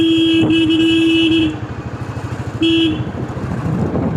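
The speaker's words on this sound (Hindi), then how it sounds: "हॉर्न मार के बढ़ते चलो" A vehicle horn honks twice in long, loud blasts amid steady engine rumble and street noise, pushing through a crowded road on the way to Madhauli Bagh village.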